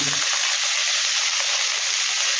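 Spring onions sizzling in oil in a pan, a steady, loud bright hiss that carries on without a break.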